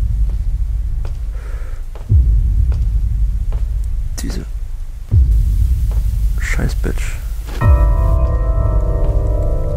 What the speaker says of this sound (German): Oh, Donner, fick dich. Fick dich, Donner, leck mich doch am Sack.